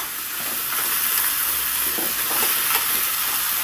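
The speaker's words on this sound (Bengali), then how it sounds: "ভালো করে খুন্তি করে আমি ভেঙে দিচ্ছি মাথাগুলো" Fish heads frying in spiced oil while a spatula breaks them apart, giving a steady close sizzle with intermittent scraping and stirring noises throughout.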